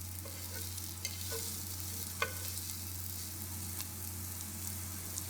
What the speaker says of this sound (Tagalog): Itutuloy lang natin ang paggisa dito hanggang sa lumambot na yung sibuyas.